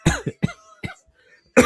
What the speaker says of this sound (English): She made me cough.